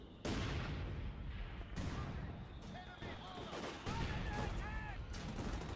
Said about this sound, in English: Mortars barraging seemingly into nothing, just into popular cover locations